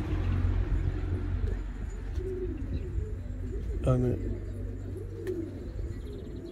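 Breeding pigeons cooing in a loft while they bathe, soft repeated coos and chirps close by over a low hum, with a brief burst of sound and a short spoken word.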